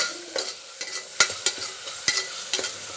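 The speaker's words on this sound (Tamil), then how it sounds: "வெங்காயம் நல்லா வதங்கணும்" Onions, tomato and curry leaves sautéing in a pan for a beef gravy, a soft hiss broken by several sharp scrapes and clacks of a spoon stirring, close and fairly quiet with no talk.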